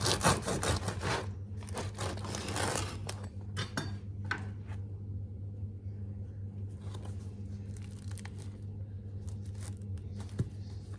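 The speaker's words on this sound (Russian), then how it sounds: "Разрежем наш хлебушек. Слышите?" Crackly scraping and tearing of a knife sawing through crusty homemade poolish bread, loud at first then softer, with scattered crumb crunches; no talking.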